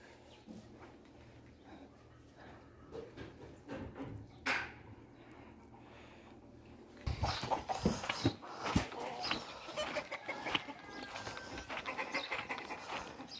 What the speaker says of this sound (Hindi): यहाँ पे देखिए मुर्गियां भी हैं